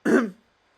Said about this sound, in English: now I'm just trying to clear my throat